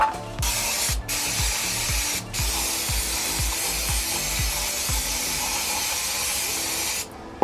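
Brake cleaner sprays from a can onto a grease-soaked Audi TT CV joint, a steady close hiss running almost without break for about seven seconds, with faint scraping and tapping beneath and a brief pause near the start.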